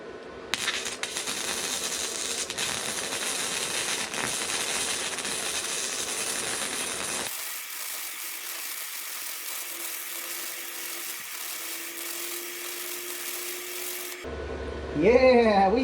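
Cheap 2-in-1 welder laying a stacked-dimes bead: a steady crackling hiss runs continuously, dense at first and then thinner and steadier, ending with a brief louder clatter.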